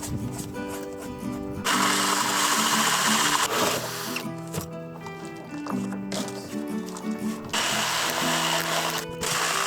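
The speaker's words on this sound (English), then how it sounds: "I used an 80mm hole saw to make the rounded corners" An 80mm hole saw whines and grinds through wood in several bursts, the motor pitch dropping under load and rising between cuts.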